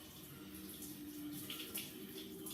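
Fresh cilantro is rinsed under a running kitchen tap, a soft, continuous splash of flowing water with faint droplet spatters, quiet and without voices.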